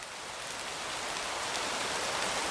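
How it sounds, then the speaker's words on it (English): A sound design layer of forest wind and medium rain hisses as a steady patter that slowly swells over a few seconds, with no talking. "I'm going to get a baseline of the forest wind and the medium rain"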